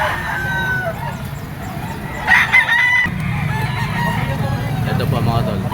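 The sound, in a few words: Gilmore blue-legged gamefowl stag rooster crowing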